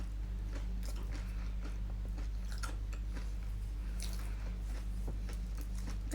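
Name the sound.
chewing crunchy chicken feet adobo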